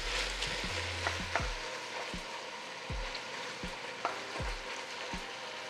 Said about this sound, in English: I'm going to add a pound of ground beef and a pound of Italian sausage. And I'm going to start breaking it up